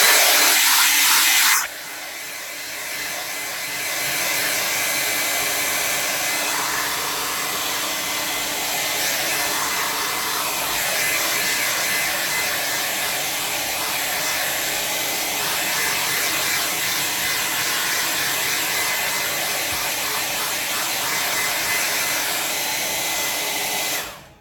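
A hair dryer runs steadily for about twenty seconds, drying a watercolor autumn landscape painting; the broad, loud airflow whoosh starts abruptly near the beginning and holds until it cuts off at the end, with no voices.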